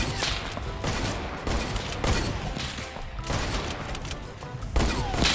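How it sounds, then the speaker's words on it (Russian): Rapid, dense gunfire in the video game Fortnite, a continuous crackling barrage of shots that stays loud throughout, with no voices clearly over it. "Где он стреляет?"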